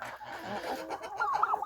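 Domestic turkeys, white, red and blue, make soft, close clucking and gobbling sounds, ending in a brief, higher, louder burst of calls.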